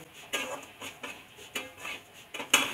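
Sesame seeds dry-roasting in a pan for tiler naru, with soft, intermittent scraping and clinking bursts of stirring at an irregular rhythm. The sound is fairly quiet and close, with no talking.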